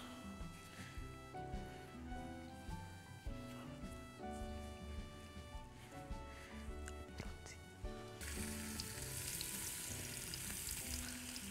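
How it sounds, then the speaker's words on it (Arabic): Floured beef pieces, dusted with flour, salt and pepper, sear in a spoonful of olive oil with a steady, close sizzle and occasional stirring clinks; the frying grows brighter and more hissing near the end, with no talk. "احنا بناخد اللون اهو من اللحمه بعد ما اديناها تعفير الدقيق وملح وفلفل ونزلناها على معلقه زيت الزيتون"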